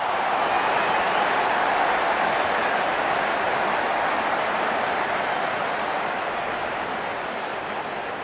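A stadium crowd applauds in the cricket video game Real Cricket 24, a steady, dense wash of clapping and crowd noise that holds evenly throughout and fades only slightly at the end.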